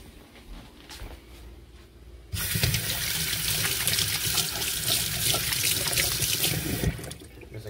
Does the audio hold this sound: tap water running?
yes